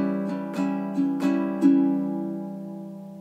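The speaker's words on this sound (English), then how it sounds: "another way to build momentum is by changing our strum pattern for that last measure" Baritone ukulele strumming a blues pattern over the final measure, four or five bright strums in a steady rhythm, the last one left ringing and fading, close and clear with no talking.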